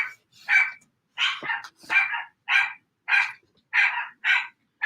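A dog barks repeatedly indoors, a steady series of about ten short, sharp barks at an even pace, close and clear with no talking.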